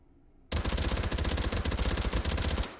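A suppressed Uzi Micro fires a single sustained full-auto burst of about two seconds in the H3VR virtual reality shooting game, fired two-handed with the stock folded. The rapid shots run together in a loud, close, unbroken rattle.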